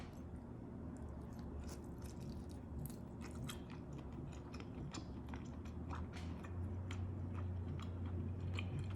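Chewing on tender, slightly chewy pork neck meat taken from a pork neck soup with mixed vegetables, soft wet mastication and small bites repeating steadily up close over a low room hum, with no talking.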